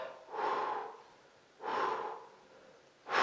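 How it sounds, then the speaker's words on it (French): A person takes three slow, deep breaths in succession, each a long airy inhale-exhale swell of roughly a second, close and clear with quiet pauses between. "vraiment vous respirez 3 fois"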